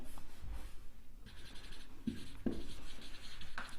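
A pen scratches out notes on paper in short, quiet strokes and pauses, close but faint, with no voices.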